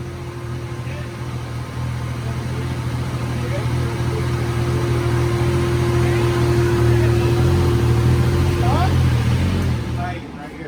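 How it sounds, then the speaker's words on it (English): A Suzuki Hayabusa's high-performance inline four-cylinder engine running on a dyno gives a steady, droning tone that swells slightly, then cuts off near the end, with people talking nearby. "you gotta love the sweet sounds of a high-performance four-cylinder inline engine."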